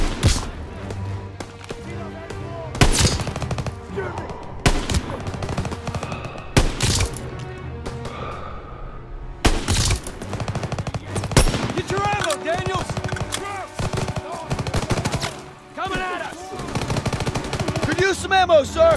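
Machine gun fire in a WWII game set in the Hurtgen Forest, Germany, in November 1944, with loud bursts and single sharp shots cracking nearby amid battlefield clatter, while soldiers shout and talk between volleys.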